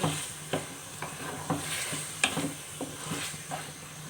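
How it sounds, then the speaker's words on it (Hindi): A mutton mince mixture is stirred and fried in a pan, with rhythmic spoon scrapes about every half second over a steady close sizzle. "अच्छी तरह से कीमे को मिक्स कर लेंगे"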